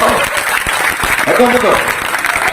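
A crowd claps in a sustained burst of applause during a political speech while a voice speaks over it.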